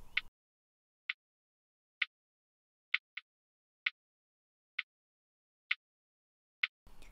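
Sparse hi-hat part from a soft, sleepy lo-fi drum pattern with extra notes slipped between the main hits: thin, crisp ticks roughly once a second with one quick doubled hit, isolated in near silence.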